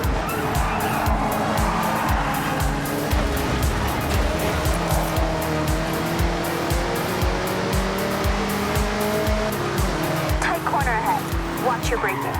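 A car engine revs and shifts through gears in Forza Horizon while cruising a scenic coastline near Tokyo city docks, steady and loud with brief tire squeals near the end and someone talking over it.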